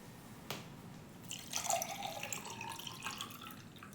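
Water is poured into a glass tumbler for a classroom magnifying experiment, a soft splash followed by a steady trickling fill with small drips, close and fairly quiet, no talking.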